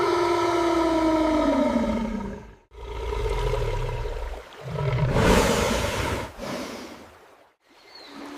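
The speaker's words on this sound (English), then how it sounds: "The adult male releases a deafening, victorious territorial roar." An adult male animal on the Zambezi River gives a deafening territorial roar: loud, deep, tonal bellows in several drawn-out bursts separated by short gaps, close and with no voices.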